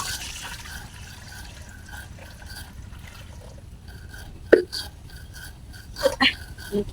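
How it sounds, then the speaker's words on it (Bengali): Water poured into a cooking pot in a village kitchen, with soft liquid splashes and trickles, a few sharper clunks near the end, and a voice speaking alongside. "আর আমি এই যে আবার পাতিলে যে পানি দিয়ে দিলাম।"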